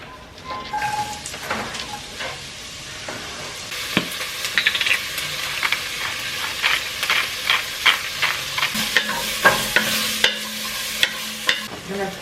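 Soup ingredients frying in a pan, with a loud, steady close sizzle and frequent sharp clicks and scrapes of stirring throughout, and no talking.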